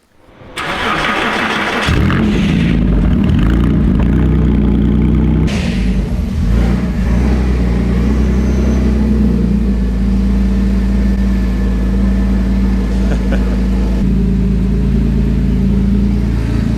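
A stripped, bodiless Porsche engine cranks and fires, then runs loud and close with a steady, deep roar and small shifts in pitch as the car is driven.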